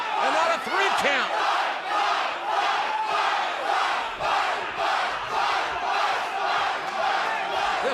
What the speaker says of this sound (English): This capacity crowd here in the NXT arena chanting 5